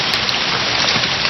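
Steady dense rain hiss from the Pokémon move Rain Dance in a game, loud and continuous throughout with no pauses.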